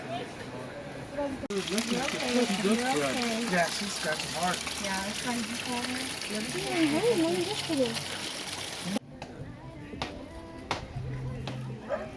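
Water flows steadily at Deep Creek Hot Springs in California, where warm pools sit above a cold river: a constant rushing trickle, mostly under people talking, then clearer near the end.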